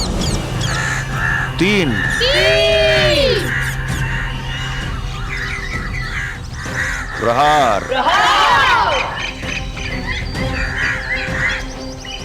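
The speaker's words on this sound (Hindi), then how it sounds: "ये अचानक से सारे पक्षी क्रंथन करते हुए अयोध्या की ओर क्यों जा रहे हैं?" A flock of crows cawing and squawking in loud, overlapping bursts across a Hindu mythological drama scene about Hanuman, with a person speaking briefly amid the cries and music.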